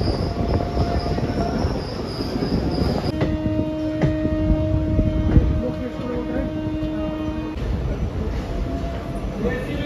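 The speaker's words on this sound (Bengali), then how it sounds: "এখন আমাদের ট্রেন ডিপারচার হচ্ছে বাগনান থেকে" A train departing Bagnan station rumbles steadily along the rails, with sustained metallic wheel squeal in the middle and continuous clatter, loud and close from onboard.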